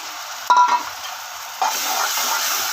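Ginger-garlic paste and tomatoes sautéing in oil, a brief loud sizzle with a scrape of stirring, then a steady hiss.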